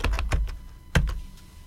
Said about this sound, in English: you can just type Windows R for the Run window and type in PuTTY